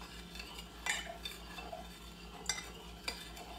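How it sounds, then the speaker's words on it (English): A long spoon stirs strawberry Jell-O in a bowl, with soft swishing and several sharp clinks of the spoon against the dish at irregular intervals. The sound is quiet and close, with no voices. "I use a long spoon. Stir it up there. Get that stirred up."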